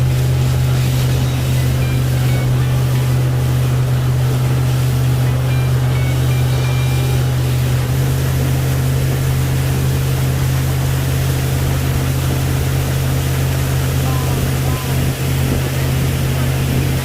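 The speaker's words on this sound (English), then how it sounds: "we had so much fun in riding the water taxi" Steady, loud drone of a water taxi's engine during a ride on a coastal bay, with wind and splashing waves mixed in, continuous and unchanging throughout.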